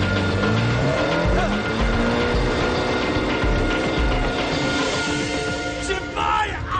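A car engine roars loud and close, revving hard as the driver floors it, with tire noise and a rising pitch sweep, a steady dense roar throughout.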